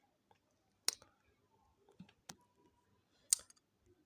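A few sharp, faint mouse clicks in quiet surroundings, isolated and irregularly spaced.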